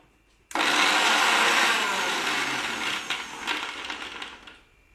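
A mixer grinder grinding paan leaves with milk whirs loudly for about four seconds, a dense steady roar that wavers and rattles slightly before stopping.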